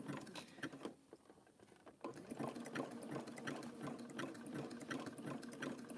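A sewing machine stitches a rope coaster in rapid, continuous mechanical chatter, pausing briefly before resuming its steady whirring run, close and fairly quiet with no talk.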